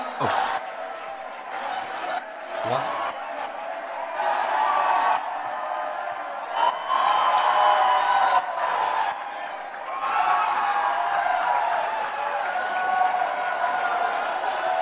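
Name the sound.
audience cheering and applauding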